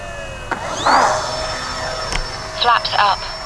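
An E-flite EC-1500 RC plane whines past during a touch and go, its electric motor pitch rising and holding steady at a distance, with brief nearby rustles.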